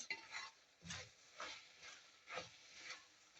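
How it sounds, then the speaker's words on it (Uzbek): Buckwheat stirred in a cooking pot: about five rhythmic scraping strokes, each roughly half a second apart, close and fairly soft, with a faint sizzle between strokes and no talk. "Aylantirib qo'yamiz."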